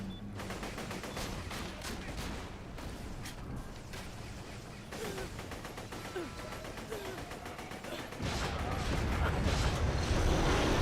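Gunfire in the Borderlands video game crackles in dense, overlapping bursts over a rumbling battle backdrop, growing louder and heavier near the end, with faint voices mixed in.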